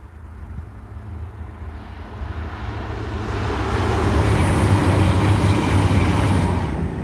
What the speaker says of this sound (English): I hear a train coming.